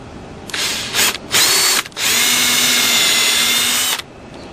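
A power drill whines loudly up close, starting and stopping a few times before a steady sustained run, biting into the wood of an antique chair under repair.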